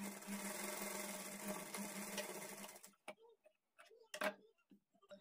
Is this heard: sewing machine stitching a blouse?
yes